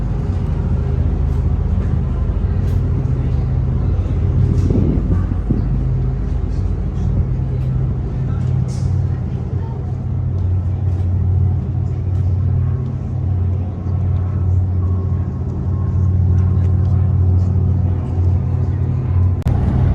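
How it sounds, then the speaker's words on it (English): Cars and motorbikes pass along a busy street in a Lake Como town, forming a continuous loud traffic rumble with engine drones rising and falling throughout. "Motorbikes, cars, people."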